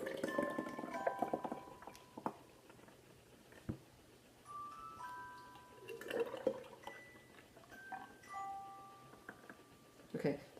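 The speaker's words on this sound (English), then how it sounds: "then I just pour this into a couple of different jars" Kefir is poured into a couple of glass jars, a quiet trickle of liquid with small clinks and knocks against a faint background hum.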